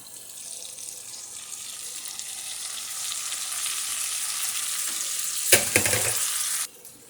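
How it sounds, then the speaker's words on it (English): Green beans sizzle loudly in a pan with caramelized onions, a steady hiss that builds and then flares with a sharp burst before cutting off. "now it's time to add the green beans"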